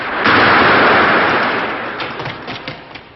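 A grenade explodes in a wartime action scene with one loud, close burst of broadband noise that rumbles and slowly dies away over a few seconds, leaving faint crackling debris.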